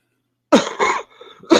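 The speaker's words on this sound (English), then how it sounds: "Cough, yeah, cough. That will help." A person coughs sharply several times in quick succession, close and loud, with a raspy throat-clearing tail between the bursts.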